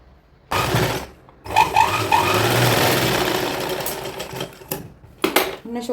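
A sewing machine stitches along the neckline of a kurti in short, close bursts of rapid mechanical whirring, separated by brief pauses.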